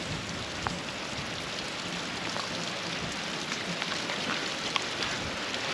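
Steady outdoor rain falls on a farm with donkeys, a dense, even hiss of drops with occasional sharper patters, moderately loud and unbroken, with no voices.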